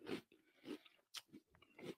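Crunching bites of Little Debbie Oatmeal Creme Pie cereal, close and dry: several distinct crunchy chews in a steady rhythm, with brief pauses between them and no talking.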